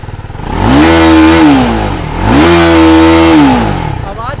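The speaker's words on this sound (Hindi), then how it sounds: "तो अब ये बाइक लग गई है अर्बन मोड में। अब सुनना आवाज़।" A TVS Apache RR 310 motorcycle engine revs in urban mode, two loud sustained revs rising and holding against the limiter before dropping back, close to the microphone with no talking.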